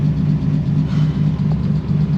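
Steady low engine rumble and road drone from inside a moving car, continuous and fairly loud throughout with no talking.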